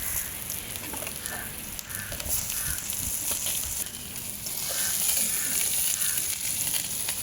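Crab and onions sautéing in a pan for a Jaffna-style crab curry, giving a continuous bright sizzle that swells toward the end, with scattered clicks and crows calling faintly outdoors.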